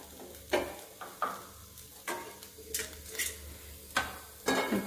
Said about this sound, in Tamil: இப்போ தேங்காயை நல்லா வதக்கிக்கலாம்.